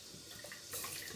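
Hot water runs steadily from a bathroom sink tap, a continuous close splashing rush that grows a little louder partway through, with no talking.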